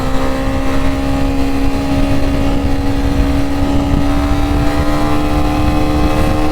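A 2022 Honda CB300R motorcycle engine pulls steadily on an open road, a loud, continuous drone with a strong steady tone that holds through the whole stretch, with no voices.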